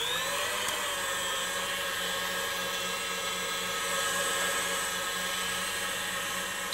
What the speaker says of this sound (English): I'm just starting to whisk my white of eggs